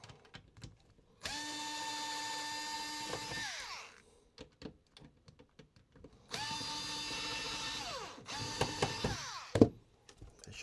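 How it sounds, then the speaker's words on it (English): A power screwdriver backs screws out of a Sony TC-K870ES cassette deck, with two long whirring motor runs and a third shorter burst, separated by clicks and handling knocks, close and loud with no talking. "So all we need to do now is take out the screws that are holding it in,"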